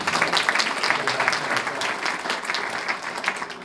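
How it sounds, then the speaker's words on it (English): An audience at a schools event luncheon applauding a sponsor, a dense, steady burst of clapping from many hands filling the room. "Also have a round of applause for Comcast."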